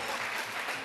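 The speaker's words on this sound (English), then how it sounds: "We want a royal clapping now." Audience applause at a Lagos State School of Nursing class reunion celebration, a brief, steady, fairly quiet wash of many hands clapping without pause.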